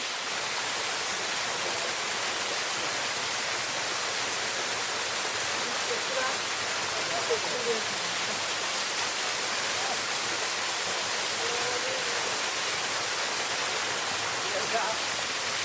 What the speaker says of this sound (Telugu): వాటర్ ఫాల్ అయితే భలే ఉంది